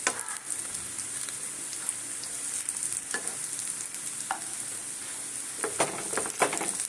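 Sajne and mustard flower fritters fry in a little oil while being pressed down, giving a continuous close sizzle with scattered crackles and soft pressing taps.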